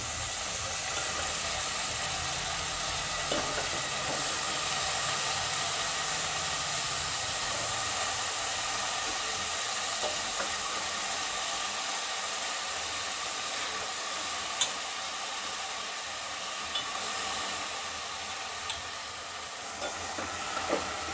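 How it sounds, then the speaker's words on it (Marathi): Mixed vegetables for Bhogi bhaji fry in oil over a medium flame, a long steady sizzle and hiss with occasional scrapes and taps as they are turned and stirred in the pan. "आता छानपैकी भाजी आपल्याला वरखाली करून घ्यायची आहे थोडंसं त्याला तेल सुटेपर्यंत हलवून घ्यायचं आहे"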